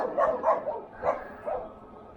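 Several chained dogs barking outdoors in the early evening, heard from a passing electric bike on a neighborhood ride: a few distinct bark bursts in quick succession, moderately close, with no talking.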